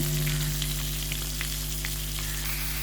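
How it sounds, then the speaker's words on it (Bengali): Fish frying in oil, a soft continuous sizzle with small pops over a steady low hum. "তো মাছ ভেজে নিলাম।"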